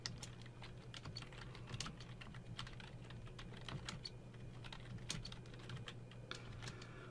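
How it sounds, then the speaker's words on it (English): Quiet, steady typing on a computer keyboard while entering HTML code, a rapid run of light key clicks with a few sharper strikes, heard alone and close against faint background hum. "you want to type your text"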